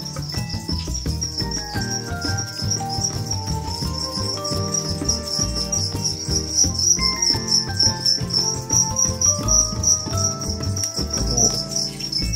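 Crickets chirp steadily throughout as live feeder insects offered to a pet, a dense continuous high trill with no talking.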